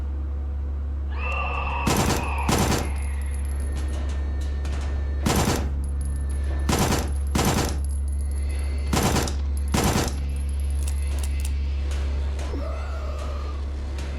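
Gunfire in the horror video game Signalis, about nine loud sharp shots spaced a second or two apart over a steady low hum, with faint background game sounds and no talking.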